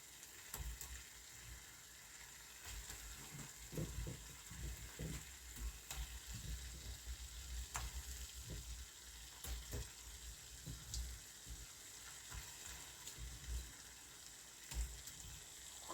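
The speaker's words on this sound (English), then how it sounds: "I will be adding my meatballs now." Meatballs are added to spaghetti sauce in a pot, giving a faint steady sizzle and bubbling with soft intermittent stirring and thuds.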